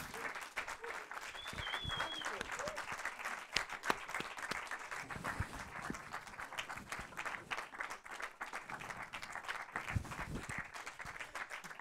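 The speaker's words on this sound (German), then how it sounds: "Großen Applaus." Applause from a quiet audience for a guest film director at a German film talk event, dense steady clapping lasting many seconds, with a voice briefly audible beneath.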